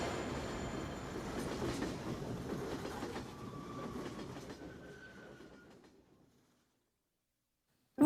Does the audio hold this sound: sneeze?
no